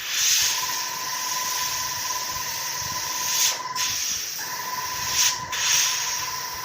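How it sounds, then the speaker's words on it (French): A spray paint can hisses steadily while painting a 1/48 scale Mitsubishi A6M2 model, its jet sputtering and catching twice in brief breaks before the continuous spray resumes. "ça crachote."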